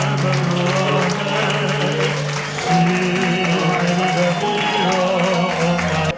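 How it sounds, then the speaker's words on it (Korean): Wedding guests applaud continuously throughout, a dense clapping wash from a crowd at a ceremony, heard under strong tonal music that dominates the mix. "박수를 부탁드리겠습니다"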